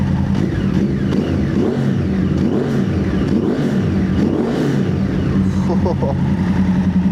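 A Yamaha R1 crossplane motorcycle engine revs up toward 4,000–5,000 RPM, rising and falling in several loud, close pulls, with a person talking over it.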